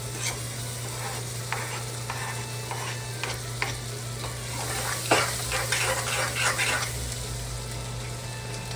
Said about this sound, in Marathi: आपण टाकून त्याला परतवून घेऊया चांगलं आणि थोडं ऑइल टाकूया.